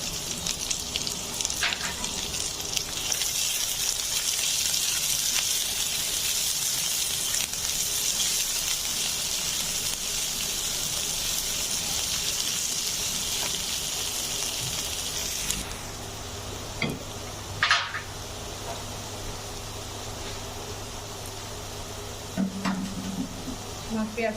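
Onions frying in a pan for an egg and tomato chutney, a dense, loud sizzle running continuously, quieting somewhat after the midpoint with a few brief clanks and stirs.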